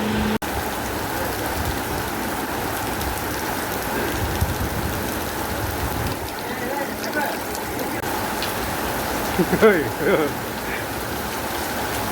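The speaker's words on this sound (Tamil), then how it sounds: "பயங்கரமாக மழை பெய்யுது." Heavy rain pours down steadily at night, a dense, continuous hiss of water striking surfaces, close and loud throughout with a few brief louder splashes near the end.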